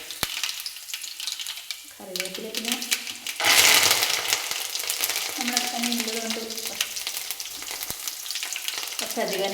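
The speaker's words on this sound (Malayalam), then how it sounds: "കടുക് പൊട്ടി വരുന്ന സമയത്ത് നമുക്ക് അതിലേക്ക് കറിവേപ്പിലേക്ക് കൊടുക്കാം" Mustard seeds popping and curry leaves sizzling in hot oil in a pan, a steady loud crackle with a sharp burst of spitting as the leaves go in; a few faint clinks and quiet voices sit underneath.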